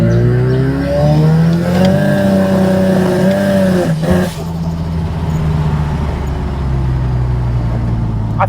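A car with a ZF 8HP automatic gearbox in manual mode pulls hard, its loud engine drone climbing steadily before a brief dip around a shift, then settling into a lower, steady hum, close up with no talk.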